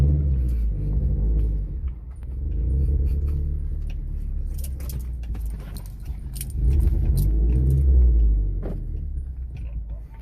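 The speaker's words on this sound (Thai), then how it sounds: "เดี๋ยวกลับรถก่อน" A car making a U-turn on a scenic road in Thailand, its engine rumbling low and steady with faint rattles and jangles from inside the cabin.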